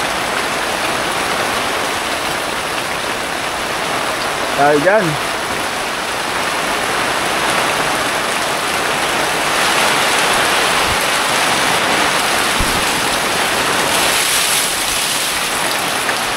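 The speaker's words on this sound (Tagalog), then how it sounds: "lumakas pa yung ulan" Heavy typhoon rain pours steadily onto a farm during Typhoon Crising, a dense continuous hiss with a brief voice speaking partway through and a few thuds near the end.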